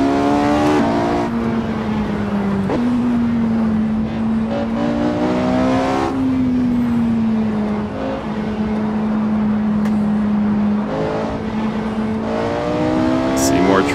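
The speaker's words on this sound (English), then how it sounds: "Porsche 918 is my weapon of choice for today." A Porsche 918 hypercar in the Assetto Corsa racing game drives through canyon roads, its engine note droning steadily loud throughout, with gear shifts and small rises and falls in pitch as it accelerates and settles.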